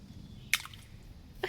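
Rocks tossed into a pebbly creek bed land with two sharp, brief splashes, one near the middle and another near the end, over a quiet low outdoor rumble.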